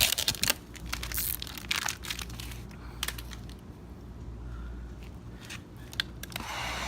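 A knife slices tint film wrapped over a 2015+ Dodge Charger tail light, giving sharp, close crinkling and cutting crackles in short bursts early on, then quieter rustling handling.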